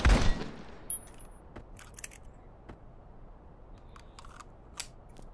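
Gunshots in the zombie game The Living Remain, a loud close burst at the start followed by scattered sharp single shots and clicks, fainter and spaced out over a quiet background.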